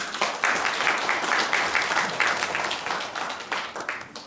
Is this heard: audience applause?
yes